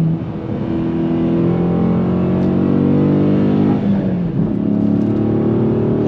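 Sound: Dodge Challenger Scat Pack engine revving on throttle

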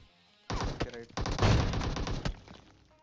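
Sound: gunfire in the video game PUBG Mobile

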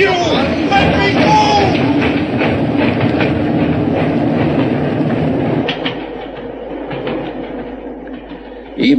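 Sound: train running, in a radio drama

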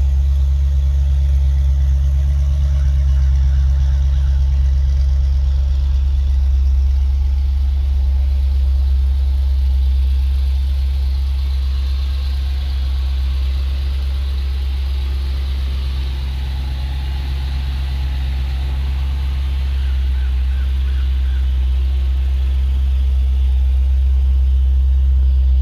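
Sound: 2010 Dodge Challenger SRT8 6.1 liter Hemi engine idling

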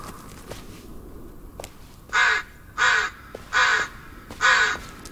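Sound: crow cawing in the video game Blair Witch

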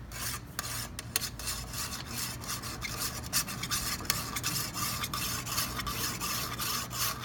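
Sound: knife sharpener grinding the edge of a frying pan

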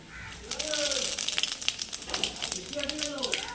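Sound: panch phoron spices sizzling in hot oil

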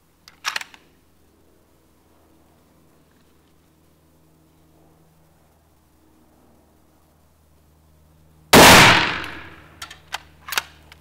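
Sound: Rossler Titan 6 rifle shot, .270 Winchester

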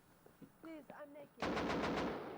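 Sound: gunfire in video game Rust

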